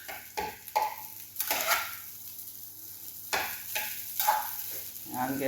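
Fried rice sizzles in a pan while a utensil stirs and scrapes it in irregular bursts, close but moderately quiet, with steady frying hiss underneath.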